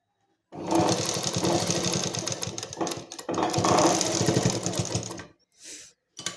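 A sewing machine runs in two long bursts of rapid stitching while sewing a kurti collar, close and clear, with short pauses between runs and a couple of brief whirs at the end.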